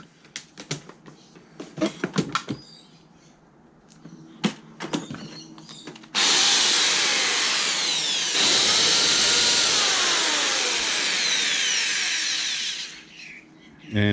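A big scrap power drill whirs loud and steady for several seconds, with a brief change in pitch midway, after some clattering and handling noises.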